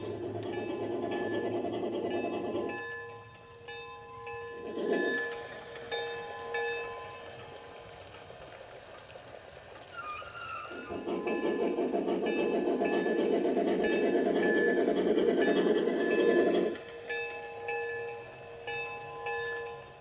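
G scale model freight train on a garden railroad moving tank cars, a steady mechanical motor hum and rolling rumble in two sustained passes with a quieter pause between, outdoors with faint background ambience.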